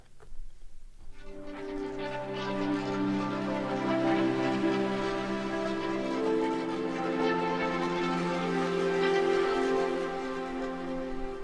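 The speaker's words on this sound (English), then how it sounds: "So really cool pad texture there." Cloudbreaker pad preset from Massive X synthesizer, a wide, sustained pad texture with shimmering, slowly shifting harmonic layers that swell in after a brief quiet start and hold steadily throughout.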